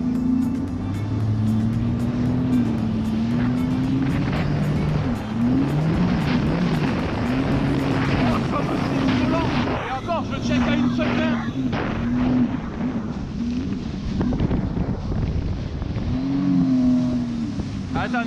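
A Sea-Doo GTX 300 Limited jet ski roars loudly close by, its engine pitch climbing and dipping as the throttle is worked, with rushing wind and water noise throughout.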